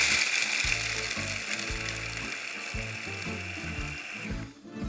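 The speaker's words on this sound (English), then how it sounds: "I'm going to pop them straight into my food processor and give them a whiz" A food processor whizzes toasted almonds for chunky-fine crumbs, a loud whirring blade with rhythmic rattling, clattering pulses of nuts knocking inside the bowl, close up and alone, ending in a brief dip as it stops.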